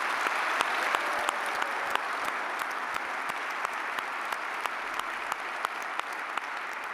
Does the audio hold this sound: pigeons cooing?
no